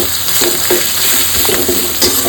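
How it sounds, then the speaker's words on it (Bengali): Garlic fries with spices in a pan for a spicy pomfret fish curry, a steady loud sizzle with occasional stirring scrapes running throughout, no voices. "সুন্দর করে আবার একটু মশলার সঙ্গে রসুনটাকে একটু ভেজে নেবো।"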